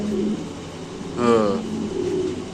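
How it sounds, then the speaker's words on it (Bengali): A house pigeon coos once in a short rolling burst near the middle, over a low murmur of background voices at a pigeon market. "কবুতরটা আমরা দেখাই দিই।"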